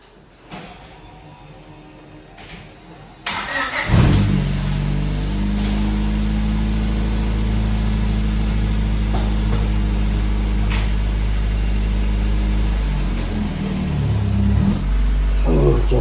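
A Honda Civic engine starts after a quiet stretch and settles into a steady, loud, low idle with a constant drone, while people talk nearby in the background.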